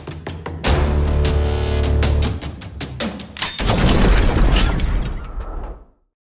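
A Smith & Wesson M&P M2.0 Compact pistol fires at an outdoor range, loud sharp reports in a quick string with ringing tails, then a longer crackling burst that fades out to silence.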